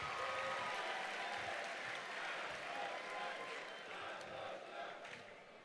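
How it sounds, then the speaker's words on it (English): Dense applause from a large audience fills the room, steady and sustained, slowly thinning toward the end. "Give them another big round of applause"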